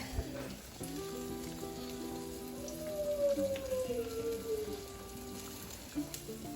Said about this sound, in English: I got my little zucchini frying up.